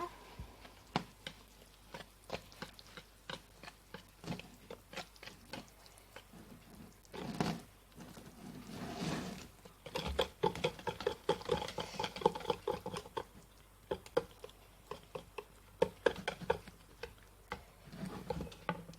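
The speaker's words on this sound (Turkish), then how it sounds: "Şimdi karıştıracağım güzelce." Revani batter being stirred in a bowl, a steady run of light ticking scrapes and taps from the utensil against the bowl, close and fairly quiet, with no talking.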